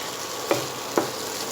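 Chopped coriander being mixed into tawa pulao in a pan: a low steady sizzle with two distinct spatula scrapes about half a second apart, close and moderate.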